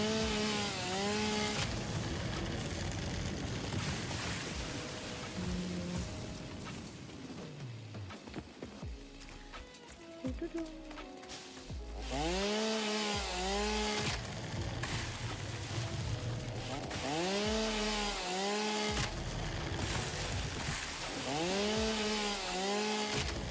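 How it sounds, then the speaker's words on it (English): A chainsaw gathers biomass in the factory-building game Satisfactory, its engine revving up and down in repeated rising whines for a long stretch of close, steady cutting with brief pauses between bursts. "please enjoy your ambient chainsaw noises while I do that"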